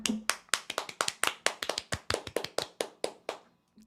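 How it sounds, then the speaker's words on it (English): Soft, polite golf claps on a Canadian sports talk show in the studio: roughly twenty evenly spaced hand claps in a quick, steady rhythm, close and alone, trailing off at the end. "It's the first time we've golf clapped on this show, hasn't it?"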